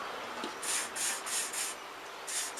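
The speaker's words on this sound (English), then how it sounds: "Let's give them a little bit of a spray." Five short hissing bursts from a GT85 aerosol lubricant can sprayed onto the rear fender of a Yamaha XVS 650 A, close by, each about a third of a second, with a final longer burst after a pause.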